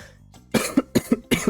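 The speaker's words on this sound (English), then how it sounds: "I'm sorry about all the coughing" Three pairs of short, harsh coughs come in quick succession from one person close to the microphone, each burst followed by a brief pause.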